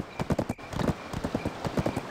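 Horse hooves clip-clop in the Black Desert MMO game, a quick, steady rhythm of hoofbeats trotting along at moderate volume with no voices over it.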